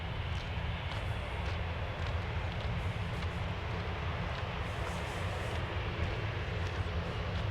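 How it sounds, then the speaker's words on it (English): A steady, distant roar of jet aircraft engines on the runway at Manchester Airport, rumbling across an open airfield, continuous and broad with no voices. "You can hear the planes on the runway behind me"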